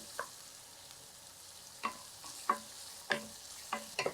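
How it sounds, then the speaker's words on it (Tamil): Tomato, broccoli and capsicum frying in a pan make a quiet, low sizzle, punctuated by several sharp scrapes and clacks of a spoon stirring against the pan. No voices. "இது ஃப்ரை ஆகிறதுக்குள்ளார"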